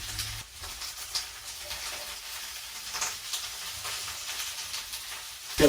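Vegetables with veggie bouillon cubes sauté in a pan for a roast pepper pasta dish, giving a steady, moderately loud hiss and sizzle throughout with faint stirring clatter and no talking.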